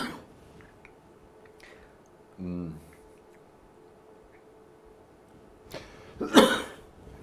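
A single short cough from a man, close and fairly loud, after a long quiet stretch of low room noise, with a faint throaty sound a few seconds earlier in an indoor setting with dry air.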